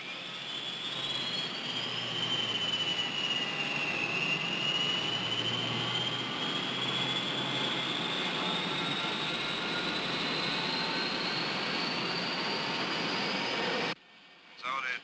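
Jet airliner engines roar steadily during takeoff, a loud sustained whine with a rising high tone over deep rumble, continuous for about fourteen seconds before cutting off abruptly.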